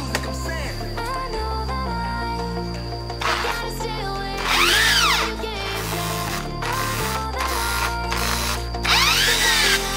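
A power drill bores into the trunk of a red rosewood tree to test its heartwood, whining in steady bursts with pitch sweeps as the bit loads and frees, loud and close with no talk.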